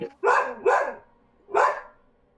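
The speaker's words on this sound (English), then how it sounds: "my dog is pissed right now" An agitated pet dog barking indoors, two quick loud barks followed by a third after a short pause, close and sharp with no voices over them.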